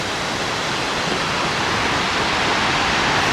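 Seawater washes back off the stones of a Welsh beach, a steady, loud, broadband rushing hiss that fills the whole moment with no break or voice.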